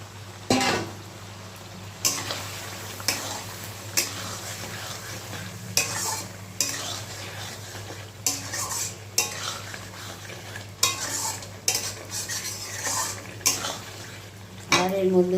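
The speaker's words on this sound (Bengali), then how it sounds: "এই যে বেগুনগুলি আমি তুলে রেখেছিলাম ভেজে সেগুলি দিয়ে দেবো অ্যাড করে দেবো" A spoon or spatula stirs fried eggplant through a cooked spice masala for curd eggplant in a pan. Close scraping strokes repeat at a steady rhythm over a low, steady sizzle, with no one talking.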